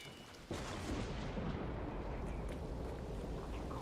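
A lightning strike in a video game's hurricane mode hits with a sudden loud crack, then a sustained roaring rumble of storm noise continues at constant level.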